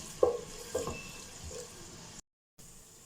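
Finely chopped onions fry in a pot for chicken korma, a soft steady sizzle with a few close clanks of the spoon against the pot, fairly quiet, then a brief gap of silence.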